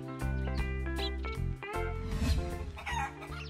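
Cartoon green chickens cluck and crow in a lively burst, the calls mixed with bright tonal sound that runs steadily throughout.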